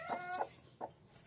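A broody hen clucks in two short bursts, a harmonic call then a quieter second cluck, fairly close with a faint background hiss.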